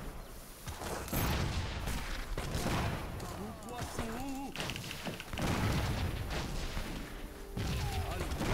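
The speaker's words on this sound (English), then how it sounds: "Shoot him with some grenades" Grenade blasts in Age of Empires 3, a busy battle of repeated booms and crashes mixed with other combat noise, with a voice talking over it.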